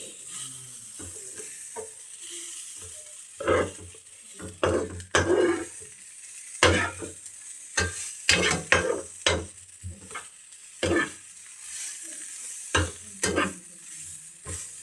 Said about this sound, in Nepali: त्यही भएर फ्राई चाउमिन फ्राई